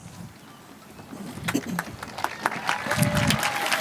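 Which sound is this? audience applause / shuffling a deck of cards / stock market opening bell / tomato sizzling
audience applause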